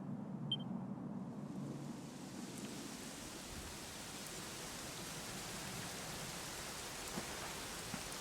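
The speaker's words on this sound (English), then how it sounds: "it was raining like this" Steady, dense rainfall in the video game Dragon Quest XI pattering evenly on a surface, a soft continuous hiss with no voices, holding constant from start to end.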